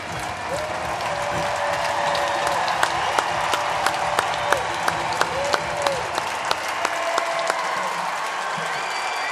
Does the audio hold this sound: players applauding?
yes